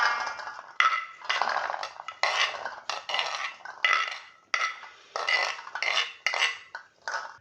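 Boiled Lahori chickpeas tipped into a metal cooking pot, giving a string of close scraping clinks and rattles of utensil on metal in irregular bursts, with no voices.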